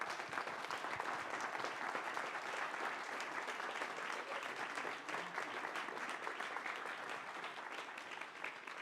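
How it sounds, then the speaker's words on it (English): An audience applauds at a design research conference after a speaker's talk: steady, dense clapping from a crowd that carries on evenly for several seconds without voices. "And one round of applause for Raya"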